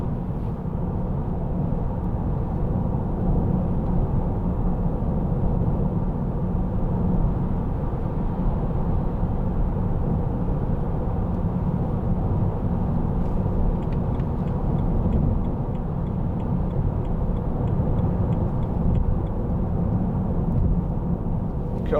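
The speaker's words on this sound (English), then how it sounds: "a little bit of tyre noise which you would expect anyway from the M Sport with the harder suspension" Steady low tyre roar and road rumble inside a moving 2008 BMW 320i M Sport coupe on wide low-profile tyres with firm suspension, constant and even throughout.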